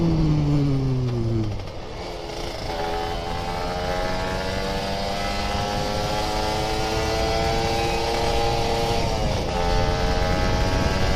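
Standard Kawasaki Ninja RR motorcycle revving hard while climbing a quiet uphill mountain road, engine note rising in long sweeping pitches through gear changes, loud and close throughout with no voices.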